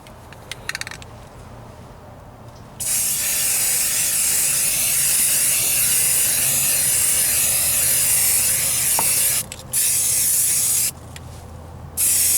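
A spray gun lays a heavy third primer coat on a Ford Ranger driver's side rocker panel patch repair, with loud sustained hissing bursts up close, broken by short pauses and a faint clink early on.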